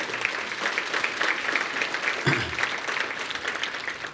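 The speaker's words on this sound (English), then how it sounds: "let's give them a round of applause." An audience at a tribute event claps steadily and warmly, a dense, even wash of applause from a sizable crowd that holds throughout with no speech over it.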